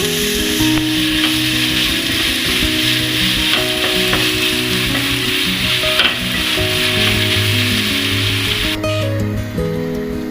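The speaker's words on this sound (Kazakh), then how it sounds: "свекла және сәл ғана жартылай ашты бұрыш саламыз. Бәрін қуырамыз." Beetroot, pepper and tomato fry together for borscht, making a loud, continuous close-up sizzle with frequent clattering stirs throughout and no voices.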